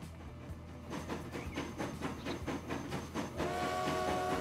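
A train pulls in on an iron ore to steel line in the video game Transport Fever 2, a steady rolling rumble with rhythmic clicking of wheels and a rising hiss near the end, no voices.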